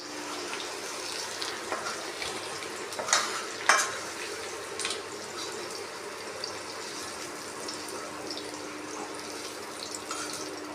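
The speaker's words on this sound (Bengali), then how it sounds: "আলু ফুলকপি ভাজা হয়ে গেল" Potato and cauliflower pieces frying in oil, a faint, steady crackle with a few sharper clinks and stirring knocks near the start.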